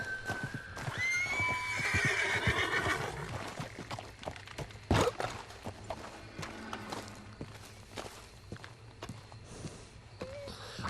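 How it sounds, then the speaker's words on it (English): In the video game Red Dead Redemption 2, a horse lets out a loud whinny, then walks up with a steady clip-clop of hooves over an outdoor ambient background. "I'm gonna get my horse to me"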